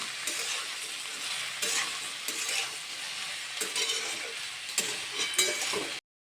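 Cut okra tossed into oil with bloomed cumin seeds sizzles loudly and steadily, with several scraping stir strokes cutting through the continuous hiss; no one speaks.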